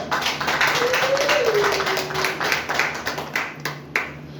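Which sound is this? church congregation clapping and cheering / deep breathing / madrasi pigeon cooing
church congregation clapping and cheering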